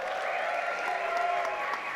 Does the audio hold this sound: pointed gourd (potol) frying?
no